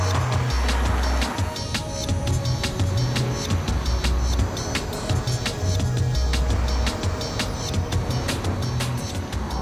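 A 4.9 litre V8 car engine gives a loud, deep, throaty roar that rumbles continuously and swells and eases in pulses, close and unaccompanied by speech.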